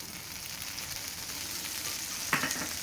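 A sorghum dosa cooks on an oiled pan with a steady close sizzle that carries right through, broken near the end by one brief louder scrape or clatter, and nobody speaks.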